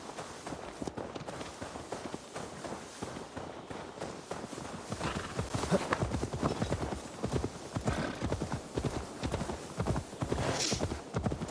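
Horse in Assassin's Creed Valhalla clip-clopping along at a steady gallop with occasional whinnies, hoofbeats loud and continuous throughout, no talking.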